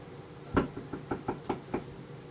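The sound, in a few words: chair making weird noises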